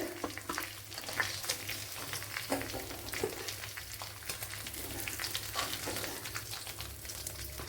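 Chicken frying in a pan for a Kerala-style pollichathu gives off a continuous, moderately quiet sizzle, with occasional small crackles and pops over the steady hiss.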